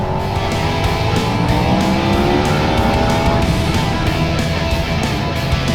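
A Ducati Panigale V4S sportbike pulls hard in second gear, its engine note climbing steadily in pitch over a loud, continuous roar of wind and road noise, recorded close from the moving bike.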